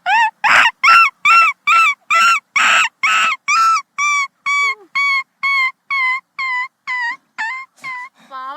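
A mimicry artist's voice imitating a crying puppy, a long series of evenly spaced high whimpering yelps, loud and close, growing thinner and more plaintive toward the end.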